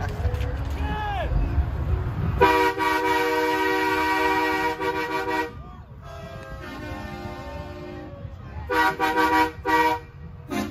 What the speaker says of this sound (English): Should I blow my horn?